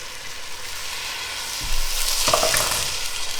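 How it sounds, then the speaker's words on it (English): Beef broth goes into a hot pot of floured beef cubes to deglaze it, and a loud, steady sizzle surges up partway through, over the stirring and frying already underway. "so we'll deglaze with the beef broth"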